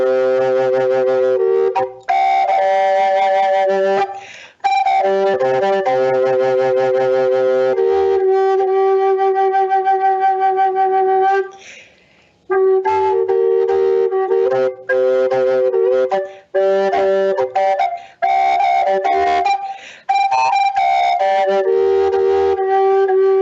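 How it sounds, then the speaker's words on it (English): Two breathy flute lines played at once by one player with a wide embouchure, sounding together in harmony, a lilting melody with short pauses between phrases, close and fairly loud with no talking. "you can add a wider embouchure and play two flutes at once"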